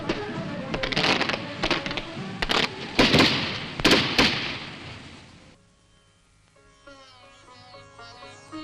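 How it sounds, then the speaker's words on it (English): Fireworks bursting over the Dussehra festival in Mysore: a run of loud, crackling blasts and pops for about five seconds, then the bangs give way to music. "the city responds with a firework display"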